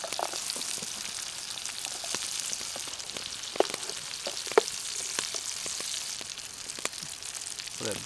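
Brown trout fries in salted butter in a pan, giving a steady close crackling sizzle with scattered pops and spits throughout.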